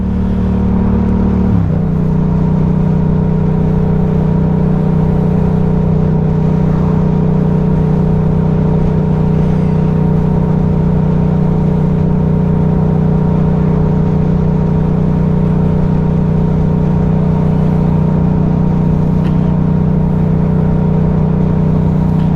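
A Yamaha MT-07 motorcycle engine drones loud and close while riding, a steady low hum that shifts pitch once early on, then holds an even, sustained tone with wind rush throughout.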